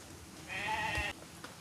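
A sheep bleats once, a single wavering call of about half a second in a farm setting, moderately distant over steady background noise, with no talking.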